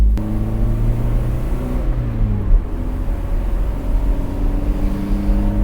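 A roadster's engine drones steadily from inside the cabin as it drives through a run of bends on a road, its loud, continuous hum shifting pitch with the gear and revs, and nobody speaks.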